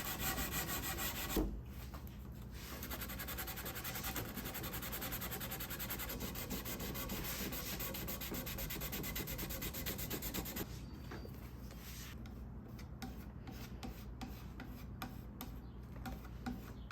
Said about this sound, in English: I'm going to try to sand it to get it smooth with the surrounding veneer